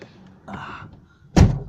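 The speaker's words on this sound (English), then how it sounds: "Totally different noise when the door thunks, newer versus older." Car door of an Alfa Romeo GTV thunking shut, a single solid, muffled thud near the end after faint rustling, close by with no talk.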